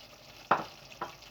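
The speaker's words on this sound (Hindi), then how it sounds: "धनिया जो मैंने रखा हुआ है काट कर और धोकर, वो इस तरीके से मैं इसमें डालूँगा" Chopped coriander is stirred into mutton in a pot: two short scraping strokes of a spoon, about half a second apart, over a faint sizzle.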